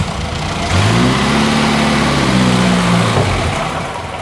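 An Austin Healey engine, cold and running on a little choke, catches and settles into a steady idle with a low rumble that holds evenly for several seconds, then fades slightly.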